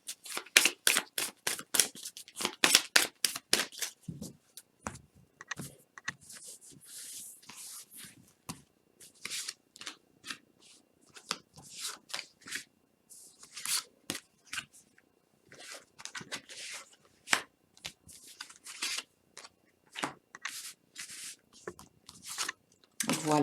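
Oracle cards, including a crystal oracle deck, are shuffled and handled by hand in a quiet room, giving crisp riffling flutters and slaps in quick runs with pauses between them, while a voice speaks softly at times.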